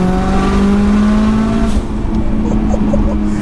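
A 550bhp 2.3 stroker Mitsubishi Evo 6 engine drones loudly and steadily, then drops off as the throttle lifts, leaving a lower, rougher idle-like rumble with faint pops.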